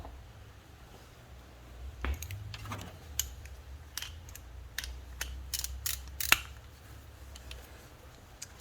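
Ratchet with a 10 mm socket loosening the ignition coil bolts on a 2015 Honda CR-V during spark plug replacement, a scatter of quiet clicks and short metallic ticks over a low background hum.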